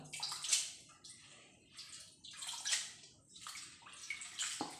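Water is poured and splashed in uneven bursts while a mixer grinds soaked ingredients for a Tulu clam breakfast, a faint watery sloshing that swells and fades several times.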